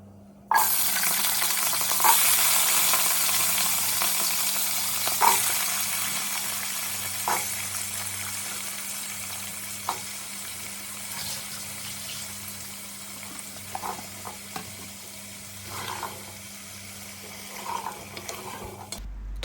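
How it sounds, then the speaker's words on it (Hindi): Potatoes frying in oil spiced with browned cumin seeds for achari aloo, a steady close sizzle with occasional scraping stirs and clinks of a spoon against the pan, no voices. "थोड़ा सा आलू को फ्राई कर लिया है हमने।"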